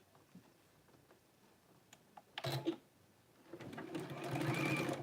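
Sewing machine stitching the top of a garment to the bottom, short bursts at first then a steady, building run of needle clatter toward the end, close and fairly loud.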